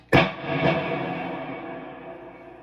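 An electric guitar plays through a Hughes & Kettner Triumph Mark III amp on the 1A channel with a Strymon Big Sky reverb and a splash of Boss DD500 delay. A struck chord, then a second, swells into a long reverb tail that slowly decays.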